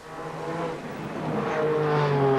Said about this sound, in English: I can hear those cars warming up